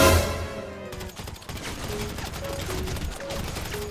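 Guards open fire in the video game GTA 5 with a dense fusillade of rapid shots, loud at first and then a steady crackling barrage with mechanical clicks, played out with no talking.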